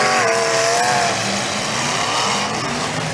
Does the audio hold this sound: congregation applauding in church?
no